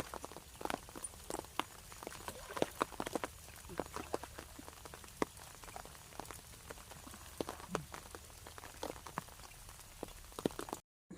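Rain patters irregularly on a surface beside a canal, with scattered sharp drops and taps at varying loudness over a quiet background.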